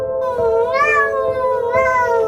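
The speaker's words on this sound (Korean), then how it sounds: "어디서 고양이 우는 소리 안 들려?" A cat meows twice in close succession, each call a drawn-out, tonal, rising then falling wail, near and loud against a quiet background with no talking.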